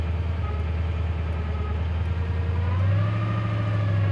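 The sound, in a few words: classic car engine idling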